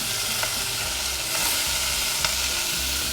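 A thick piece of salmon frying in oil in a covered pan over medium heat, producing a steady close sizzle with faint popping, alone without talk.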